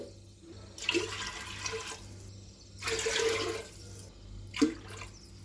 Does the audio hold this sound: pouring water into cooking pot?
yes